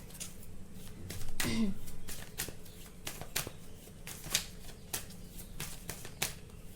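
Tarot cards are shuffled by hand in a rapid series of crisp riffles and slaps, with one longer burst early on, close and fairly loud, and no speech.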